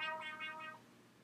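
A man's recorded wah wah vocal noise plays back through an iPhone message board app, its pitch swept by a slider, giving a brief harmonic, wavering tone that fades after under a second.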